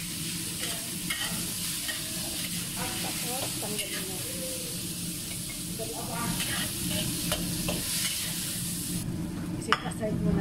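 Beef stir-frying with red bell pepper in a hot pan, a steady loud sizzle with scraping stirs and occasional clinks of the utensil against the pan, continuous and close throughout.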